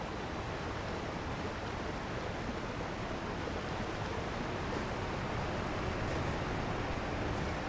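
In Elden Ring, a waterfall on the Southern Coast roars as a constant, dense rush of falling water, steady and unbroken throughout, with no voices over it.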